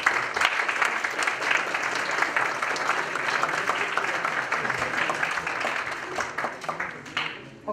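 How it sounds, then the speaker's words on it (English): An audience at a lecture on robotic exoskeleton control applauds, dense continuous clapping from many hands filling the room for several seconds before tapering off. "So please give a strong applause for PhD Ahmed."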